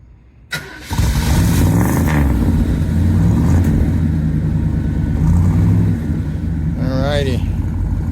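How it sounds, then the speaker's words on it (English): A 350 V8 car engine cranks and fires up at close range, then idles with a loud, rough, lumpy rumble, with a brief throttle blip near the end. "350 engine"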